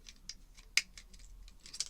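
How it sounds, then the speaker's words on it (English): Scissors snipping through leftover craft paper and card pieces, a series of light, quick cuts close by with a few sharper snips near the end, no talking. "just chop up with your scissors"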